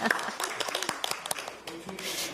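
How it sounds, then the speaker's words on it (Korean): A room of party members at a Democratic Party floor strategy meeting claps briefly: a quick burst of many overlapping hand claps at moderate loudness, with some voices mixed in. "박수를 확실하게 쳐주시죠"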